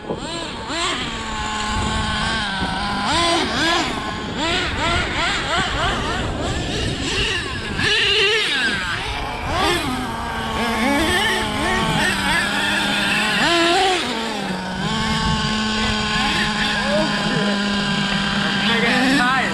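An HPI Savage RC monster truck engine runs loud and close, a buzzing nitro whine that rises and falls with revving, with voices talking over it.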